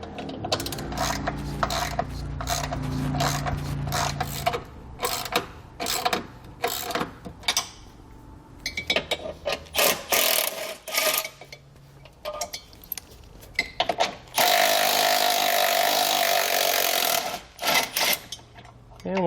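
A hand ratchet fitted with an 11mm socket works bolts loose on a vehicle base plate, giving bursts of quick, close clicking separated by short pauses, then a longer steady stretch of rapid ratcheting near the end.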